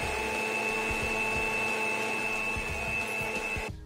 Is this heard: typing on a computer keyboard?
no